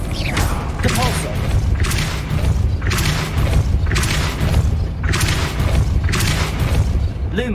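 Depulso repulsion spells cast in the Hogwarts Legacy video game: a series of about six forceful whooshing blasts with booming thuds, landing at a steady rhythm roughly every second and a half over a continuous game backdrop.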